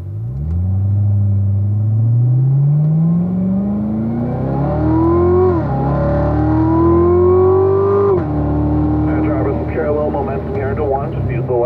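A car engine revs up and accelerates away, pitch climbing steadily through gear changes, loud and close with a continuous rumble.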